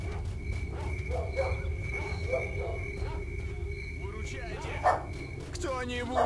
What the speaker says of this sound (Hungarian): Kutyaugatás hang van.